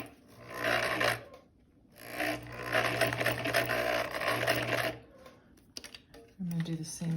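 A sewing machine runs in two bursts of rapid, whirring stitching through fabric, with short pauses between them and a person talking near the end.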